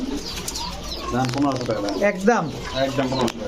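Very large pigeons coo in a close, low murmur, soft rolling calls that repeat while someone talks over them at a pigeon sale.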